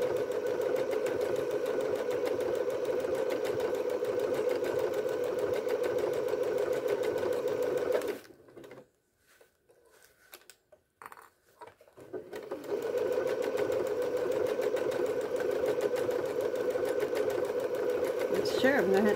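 A sewing machine stitches an overlock seam, a steady close mechanical whir that stops for a few seconds midway and then resumes, with a voice speaking over part of it.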